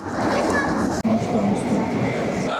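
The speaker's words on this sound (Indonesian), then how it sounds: "Oke, ini aku udah di kereta lagi." Steady rumbling train noise fills the cabin, a continuous rolling drone with a brief dropout, riding inside a passenger train from Zelenograd toward Kaliningrad.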